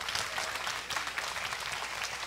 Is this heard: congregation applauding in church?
yes